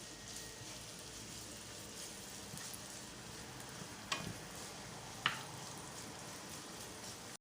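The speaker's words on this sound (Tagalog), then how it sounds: "Gisa natin sa bawang at saka sibuyas." Garlic and onion sautéing in a pan for lamb lumpia, a soft steady sizzle with a couple of brief clinks of stirring, close and quiet with no talking.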